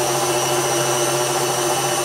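A kitchen blender running steadily while mixing cookie dough ingredients, a continuous whirring motor hum with a tonal buzz, loud and close, alone without talk.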